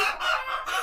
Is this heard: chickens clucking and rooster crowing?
yes